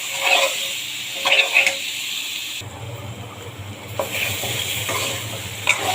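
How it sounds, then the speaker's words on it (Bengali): Ginger and cumin paste stir-fried into a Bengali curry, a steady close sizzle and hiss with scraping stirs of a spoon against the pan, louder bursts at moments and no talk. "দিয়ে দেব আদা জিরে পেস্ট করা। এখন ভালো করে কষিয়ে নেব।"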